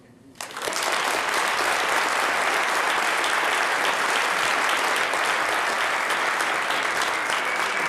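A large banquet audience breaks into loud, sustained applause for baseball Hall of Famer Lou Brock, starting abruptly and holding steady throughout.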